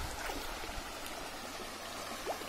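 A shallow creek with rock slab beneath its bed flows steadily through a Rio Grande do Sul drought, its water level lowered. A soft, continuous trickle and gurgle runs alone at low volume, with no talking.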